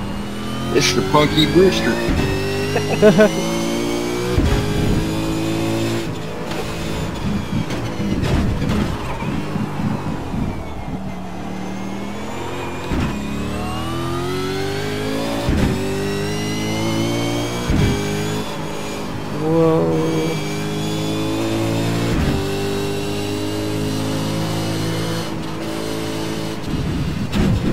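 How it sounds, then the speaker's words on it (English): Race car engine in the iRacing sim, revving hard and shifting down through several gears in quick succession, steady and loud throughout, with someone talking over it. "Whoa, too many downshifts."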